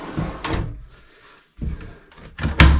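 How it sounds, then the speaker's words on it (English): A vanity cabinet door is popped off its soft-close hinges in a DIY bathroom project, giving several close, sharp knocks and wooden clunks separated by short pauses, ending with a louder clack. "I'm gonna pop the other door off."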